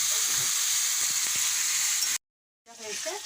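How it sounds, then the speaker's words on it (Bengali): Vegetables for pasta sizzle and hiss steadily in a hot pan, cut by a short silence before the frying resumes. "সবজিগুলো আগে একটু লাল লাল করে ভেজে নিই"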